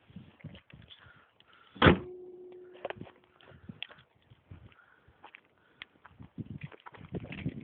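A Peugeot 207 hood slams shut once, a single loud near thud, followed by quieter scattered clicks and handling noises.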